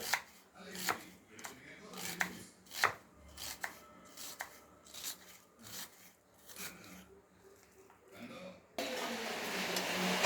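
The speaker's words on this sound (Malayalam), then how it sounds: "നല്ല ചെറുതായി അരിഞ്ഞെടുക്കുക." A knife finely chops onion on a board, quick uneven taps and strokes close by, with a brief burst of steady broadband noise at the end.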